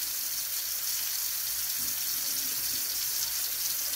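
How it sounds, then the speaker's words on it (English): Liquid poured off from a bowl into a farm kitchen sink while making butter, a continuous splashing water stream at steady, moderate loudness with no talk. "Pour it out into your sink."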